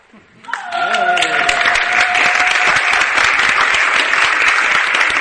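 Church women in Tanzania greeting visitors with high-pitched joyful ululation, a loud wavering trill rising over dense, sustained crowd applause after a brief quieter opening.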